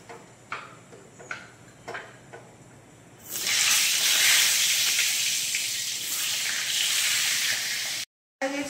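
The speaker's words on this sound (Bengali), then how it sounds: "তেলটা গরম হয়ে গেলে তেলে সামান্য একটু নুন দিয়ে আলুটা ভেজে নেব।" Potatoes dropped into hot oil sprinkled with salt: faint ticking at first, then a sudden loud, steady sizzle and hiss that holds for several seconds before cutting off abruptly.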